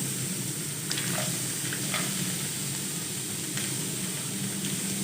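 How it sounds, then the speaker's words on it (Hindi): Corn kernels sizzle steadily in a hot pan with a constant frying hiss and a few faint clinks of stirring, close and unbroken. "चार से 5 मिनट के लिए तीनों चीज़ों को फ्राई कर लेंगे"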